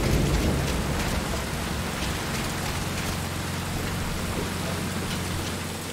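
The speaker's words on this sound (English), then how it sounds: "That rain just won't let up." Heavy rain pours steadily during a thunderstorm in Metal Gear Solid V: Ground Zeroes, a dense hiss of drops on surfaces with a low rumble of thunder underneath, continuous and enveloping throughout.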